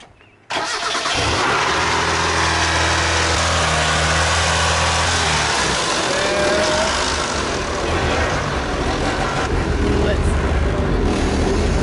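Chevrolet S10 pickup truck running at a steady idle, the engine close and loud with a low rumbling drone that holds evenly throughout, a brief start-up surge at the very beginning, no talking.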